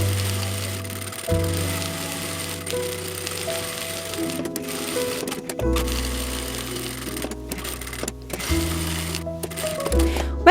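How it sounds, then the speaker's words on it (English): Sewing machine running a basting stitch around the edge of quilted fabric layered with wadding, for an expandable travel bag; steady mechanical whirring in several runs that stop and restart, with faint background voices at moments. "I sew a quick basting stitch about 2 mm from the edge all the way around"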